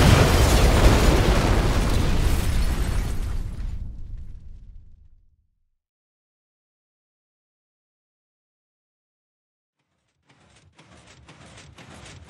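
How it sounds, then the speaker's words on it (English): A flying machine exploding on collision in the Minecraft video game: a loud, close boom that rumbles and fades out over about five seconds, then silence, followed by a faint burst of crackling pops near the end. "I sure am glad flying machines don't explode on collision"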